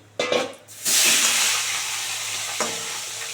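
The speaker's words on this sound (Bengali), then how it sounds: "লেজাটা আছে লেজাটা ভেজে নিই" Fish tail pieces hit hot oil for a loud, hissing fry that swells after a brief stir and then settles into a steady sizzle, with a small clatter near the end; no one speaks.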